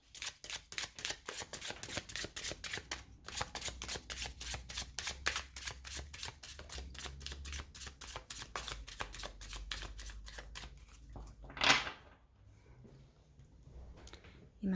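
Tarot deck being shuffled by hand, a long run of rapid, rhythmic riffling card flicks, close and steady, broken by a brief pause and a louder swish near the end.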